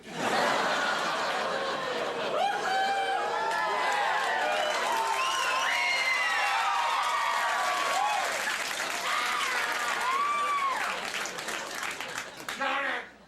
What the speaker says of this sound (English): Odd crowd reaction.